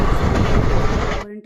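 A passenger train travels on the rails, a loud, close rumble with rattling wheel clatter that cuts off abruptly near the end.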